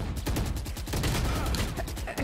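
Gunfire in the video game Valorant, a dense, loud stretch of rapid shots and impacts with a continuous harsh rumble and short pauses between bursts, close and mixed with game noise.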